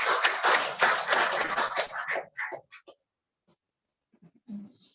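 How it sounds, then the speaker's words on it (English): Audience at a women's health centre event clapping to welcome a speaker, a dense burst of applause for about two seconds that thins into scattered claps and fades to near silence, with faint murmurs afterward. "Let's clap"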